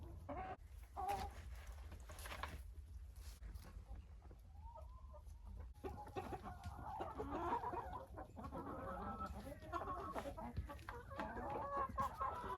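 Hens in a backyard coop clucking and murmuring softly, with scattered calls and a low hum underneath, quieter at first and busier in the second half.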